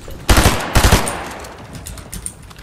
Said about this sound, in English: Oh, I was shooting.